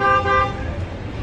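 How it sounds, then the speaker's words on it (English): Car horns honking amid heavy city street traffic, a steady tonal blare at the start that fades into the loud rumble of traffic, with no talking. "Hear the horns?"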